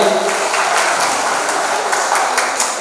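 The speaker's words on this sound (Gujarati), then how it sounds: "બજરંગ દળની દુર્ગાબાઈની દીકરીઓને જોરદાર તાળીઓને ગગડાટ વધાવીએ" An audience claps for the Bajrang Dal Durga Vahini girls at a Vishva Hindu Parishad celebration in Ranpur, Botad, a steady, dense applause that stays loud for the whole stretch.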